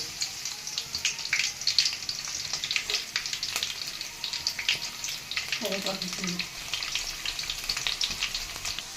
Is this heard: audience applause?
no